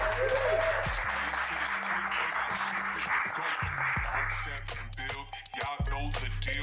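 An audience claps and cheers in a loud burst of applause, fading in places and briefly broken by a few spoken words and a music beat.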